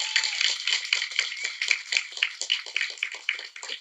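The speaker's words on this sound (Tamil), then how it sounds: "செம்மையா கை தட்டுறாங்க உனக்கு" An audience at a movie trailer launch claps in a fast, steady rhythm of sharp, crisp claps that carry on without a break.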